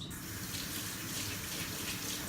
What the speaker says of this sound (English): For the sponges, I dip this in water